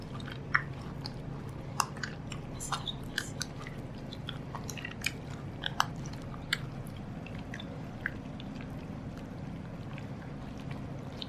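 Soft jackfruit pulp squeezed by hand through a strainer to press out its juice, giving wet squishing and crackling clicks in an irregular rhythm, close and fairly quiet, with no voices.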